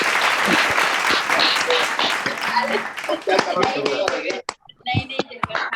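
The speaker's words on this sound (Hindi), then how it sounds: "बहुत सुंदर उद्बोधन के लिए बहुत जोरदार तालियां" Loud audience applause and clapping fill the room to welcome a speaker at an engineering alumni event, a dense, sustained burst that thins out near the end with a few scattered claps.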